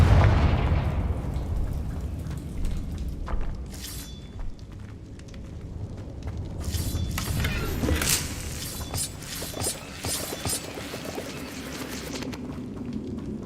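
Confringo explosion spell bursts in Hogwarts Legacy, a deep boom opening followed by several sharp crackling blasts and impacts over rumbling game background.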